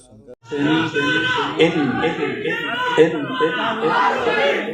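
A crowd chanting slogans in unison at a political rally, loud and close, with voices rising and falling in rhythmic shouted phrases that continue without a break.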